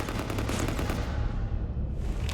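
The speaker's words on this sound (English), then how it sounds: "You want to stop shooting up my ship?" Rapid automatic gunfire rattles continuously at a ship in Mass Effect 3, dense and close.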